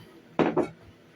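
Two quick scrapes of a utensil across a dish holding creme brulee custard mix, taking the bubbles off the surface; each is short and close, with near silence around them.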